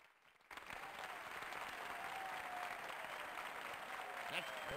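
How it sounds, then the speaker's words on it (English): Steady audience applause from the Family Feud game show video game on PS1 starts suddenly after a brief near-silence and fills the rest of the clip as a dense, even wash of clapping, with voices talking over it. "Look how the clapping still went."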